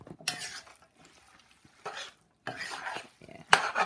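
Spaghetti with meat stirred in a pot, a few separate scraping and clattering strokes of a utensil against the pot with quiet gaps between them.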